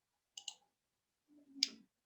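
Two short bursts of computer keyboard typing, a quick pair of clicks and then a slightly longer cluster, close and fairly quiet against silence.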